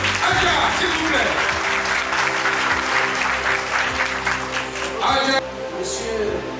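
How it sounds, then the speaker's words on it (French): An audience at a political party congress applauds, a dense, sustained clapping from a large crowd filling the room before tapering slightly, with a voice speaking near the end. "On applaudit pour Aga, s'il vous plaît"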